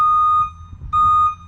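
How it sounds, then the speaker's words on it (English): Reverse warning alarm on a Reddick Turf'tainer lawn truck gives two loud, steady electronic beeps, each about half a second, with a brief gap and low engine rumble between. "We've got a backup alarm on the truck."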